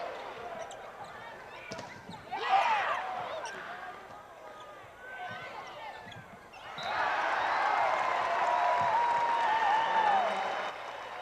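A crowd applauds and cheers at a 1982 NCAA women's volleyball national championship between Hawaii and USC, with short bursts early on and then a long, loud swell of applause. A commentator talks over the crowd, and ball bounces sound along with it.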